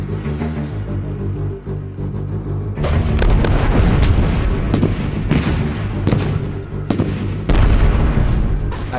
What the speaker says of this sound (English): the Allied artillery commence counter-battery fire to destroy the German guns, then lays down a creeping barrage